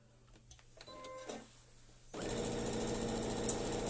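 A sewing machine stitches down a quilt block for a chubby star pattern, starting abruptly after a few quiet handling clicks and then running steadily and fairly loud for nearly two seconds.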